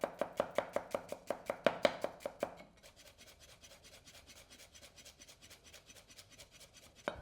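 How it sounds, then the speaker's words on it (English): Ginger chopped into matchsticks with a knife on a board, a quick regular run of crisp close taps that starts loud and then continues as softer, faster tapping. "My ginger, I'm just going to chop into matchsticks."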